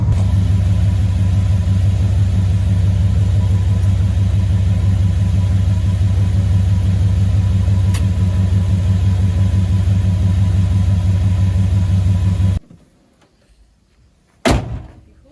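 A Dodge Ram pickup truck's engine idling in neutral, a loud, steady low rumble close by, then the engine stops abruptly near the end, followed by near silence and a sharp bang like a door slam.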